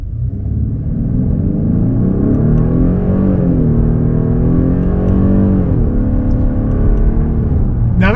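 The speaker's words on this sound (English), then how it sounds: "the pumped-in fake exhaust sound that we have set right now on largest change" A 2026 Genesis G80 2.5T AWD sedan in sport mode revs hard with its synthesized active exhaust sound, a loud, steady engine drone rising and falling in pitch through the run with no talk over it.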